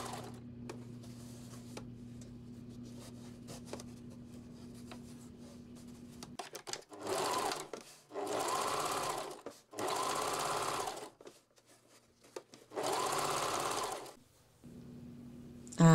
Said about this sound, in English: And again, I just fold it down and top stitch it.